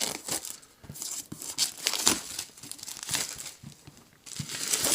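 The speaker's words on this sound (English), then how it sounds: "See if we can get this plastic off." Crinkly plastic shrink-wrap being torn and pulled off a Power Rangers Heroes of the Grid Zeo Ranger pack box, a continuous close crackling and crumpling with brief louder rips and short quiet gaps.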